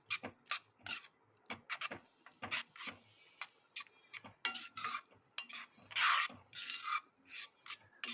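Cucumber and spinach curry being stirred in a pan, a spoon scraping and rasping against the metal in quick, repeated strokes at close range, with no voices.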